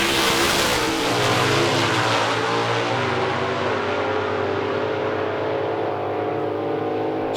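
A drag racing car at Calder Park roars loudly and continuously, its engine note sweeping as it accelerates down the strip, then fading slightly toward the end.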